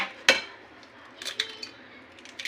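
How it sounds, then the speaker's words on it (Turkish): Two eggs are cracked for a cake batter: one sharp crack on a hard edge, followed by a few soft taps and small clicks nearby. No one speaks. "Öncelikle iki tane yumurtam var. Onu şöyle kırdım."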